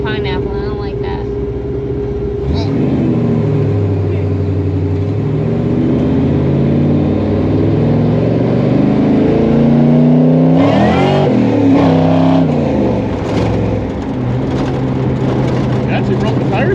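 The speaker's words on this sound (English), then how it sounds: "I actually broke the tires loose on that one." A supercharged 1955 Chevrolet Nomad gasser accelerates hard and loud, the engine note sweeping up through rising revs as the tires break loose, with a brief lift and a second surge near the end; voices are faintly present underneath.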